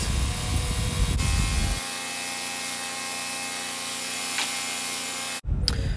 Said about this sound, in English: feeding through the belt sander, getting that last little bit off, flattening everything out